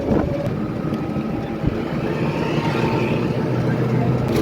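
Boats running through the fishery ghat at Cox's Bazar on the Maheshkhali route, a steady engine drone on open water with wind buffeting the microphone, continuous throughout with faint voices underneath.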